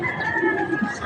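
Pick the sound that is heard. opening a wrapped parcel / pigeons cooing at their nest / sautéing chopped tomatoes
pigeons cooing at their nest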